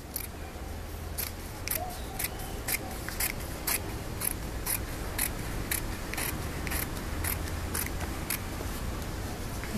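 Scissors cut through fabric for a circle skirt, making a steady series of close, crisp snips that repeat roughly every half second over a soft background hiss.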